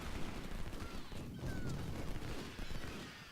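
Rifle fire from sniper units in a Gettysburg battle video game, a dense fusillade of overlapping shots and crackling gunfire over a rumbling battlefield din, steady and loud throughout.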